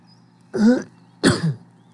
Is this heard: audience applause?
no